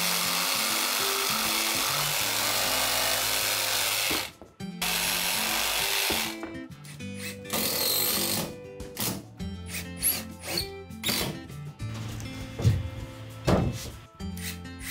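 A rasp whose face is covered in small metal teeth scrapes hard and steadily against plasterboard, smoothing a curved edge, in loud, rough strokes with a few brief pauses and shifting rhythm toward the end.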